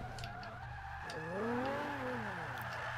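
Nissan 350Z with about 550 horsepower drifting at full power in Forza 5: a constant engine roar with a rising, wavering tire squeal near the middle, alone without talk.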